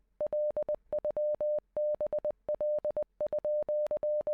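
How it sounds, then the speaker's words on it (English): Repeated Morse code from Z.A.T.O., a clean steady tone keyed in crisp short and long beeps, evenly spaced in a continuous pattern with no voices. "That is a really repetitive noise,"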